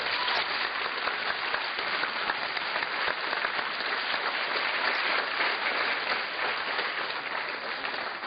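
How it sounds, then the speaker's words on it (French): A studio audience at a French television cooking show applauds, dense steady clapping heard throughout at a consistent, loud level with no talk. "applaudissements s'il vous plaît."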